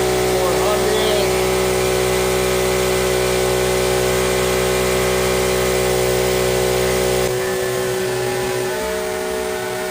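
A two-stroke generator engine drones steadily with a constant mechanical hum, then the tone drops and becomes quieter near the end.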